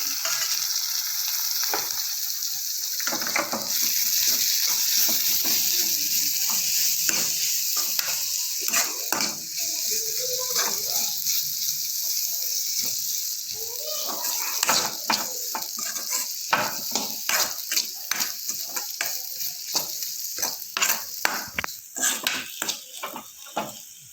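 Tomatoes frying in a pan while a fish curry is being cooked, with a continuous sizzle broken by frequent spatula scrapes and clacks against the pan, close and growing choppier toward the end.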